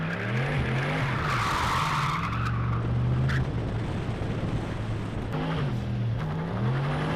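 A drift car skids through a tight uphill corner at Teesside circuit, tyres squealing loudly over a droning, revving engine that rises and falls, close and continuous.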